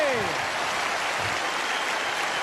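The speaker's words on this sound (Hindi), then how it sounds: "एक बार जोरदार तालियां अमिताभ बच्चन सर के लिए।" Studio audience applause for Amitabh Bachchan on the KBC quiz show, a dense, steady wash of clapping that fills the whole stretch at an even, loud level.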